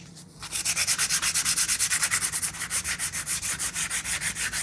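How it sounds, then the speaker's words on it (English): Sandpaper rubbed by hand over the textured surface of a painted, dry-brushed wooden mirror frame, a fast steady run of rhythmic scratchy strokes, close and clear with no talk. "I am going to do a little bit of sanding on this texture"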